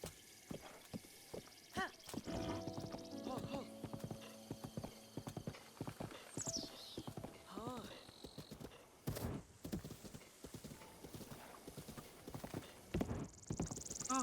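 A horse in the video game Zelda: Breath of the Wild runs with rapid clip-clopping hoofbeats, and a brief whinny cuts in before the hooves carry on.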